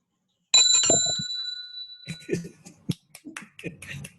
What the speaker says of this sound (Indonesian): Saya buka dulu dengan Bel.